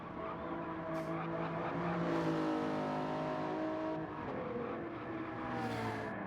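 A race car in Gran Turismo 7 crosses the start-finish line at Watkins Glen, its engine holding a steady, fairly loud drone with harmonic whine that shifts pitch slightly as it passes, no talk over it.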